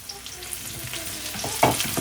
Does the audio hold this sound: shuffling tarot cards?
no